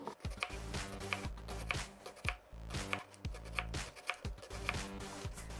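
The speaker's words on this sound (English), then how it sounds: "we'll just cut up the onion" A knife chopping onion finely on a cutting board for a chicken teriyaki wrap, a quick steady run of close crisp taps in an even rhythm with no talking.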